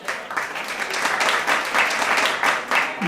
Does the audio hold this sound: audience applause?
yes